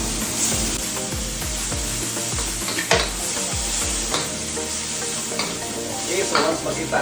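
Squid sizzles steadily as it is stir-fried in a pan with aromatics, a continuous loud hiss broken by scraping stirs and a few sharper clinks, no talking over it.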